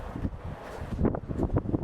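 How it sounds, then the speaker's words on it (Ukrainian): Gusty wind buffeting the microphone outdoors by the water while fishing, a rumbling, uneven roar that swells and fades in waves. "тут вітер дує"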